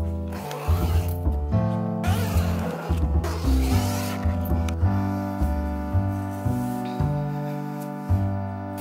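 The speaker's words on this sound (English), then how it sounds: "So this has two zippers on the outside." Zippers on the outside of a Safe Night Net enclosed safety bed are pulled open and shut in repeated close, rasping sweeps, each a second or so long.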